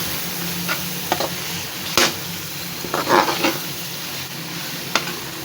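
Masala frying and being stirred for dhaba-style dal, a soft continuous sizzle with occasional scraping and clinking of the spoon against the pan, close and fairly quiet without speech.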